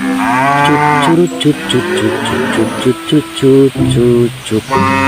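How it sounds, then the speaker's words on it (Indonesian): A cow moos loudly and close by, a long drawn-out low call with shifting tone, followed by further lowing bursts. "Sepertinya masih ada suara sapi di sini"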